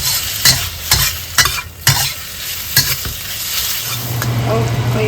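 Bacon frying in a wok sizzles loudly and continuously, with a string of sharp scraping stirs from a spatula at irregular intervals. The sizzle swells into a steadier hiss at the end, and no one speaks.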